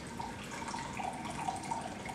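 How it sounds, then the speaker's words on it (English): Wort from an American cream ale mash is poured back and recirculated while homebrewing, a quiet steady trickle and splash of liquid running into a vessel, faint and close with no talking. "What I'm going to do is recirculate the wort until it starts to run clear."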